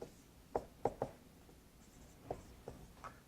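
A pen or marker writes a matrix by hand in a quiet room, a handful of short, distinct scratching strokes spaced irregularly, with no talking.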